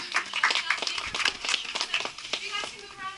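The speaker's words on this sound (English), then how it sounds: "Give a round of applause." An audience on a Mystery Spot tour gives a short, scattered round of claps. Voices and chatter run through the clapping.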